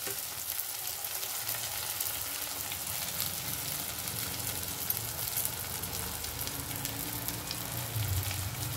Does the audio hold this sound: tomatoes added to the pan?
yes